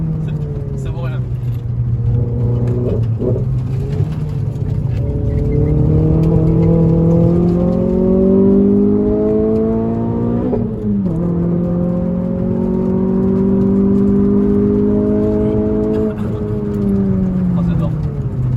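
A Renault Clio 3 RS tuned past 200 hp revs hard through the gears, its engine note climbing steadily and then dropping at each shift, loud and close for the whole stretch.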